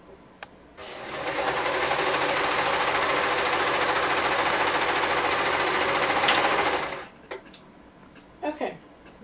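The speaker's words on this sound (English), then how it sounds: "So right now you're going to serge those" A serger finishes sweater seams in one steady, whirring run of about six seconds, close and loud, followed by a few faint clicks and handling sounds.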